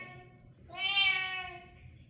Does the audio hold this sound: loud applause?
no